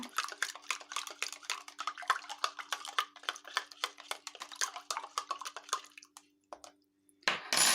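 A spoon clinks rapidly against a bowl as 150 ml of water with half a spoon of salt is stirred, quick rhythmic tapping for several seconds, then a pause and a brief rustle.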